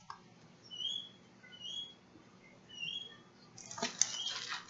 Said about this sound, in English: Can you hear the birds outside?